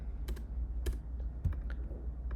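Keystrokes on a computer keyboard as a git clone command is entered in a server terminal; a few scattered, soft clicks in small bursts over a steady low hum, close by with no talk.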